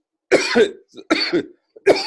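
Three harsh coughing bursts, close and loud, each a rough hack with short gaps of quiet between.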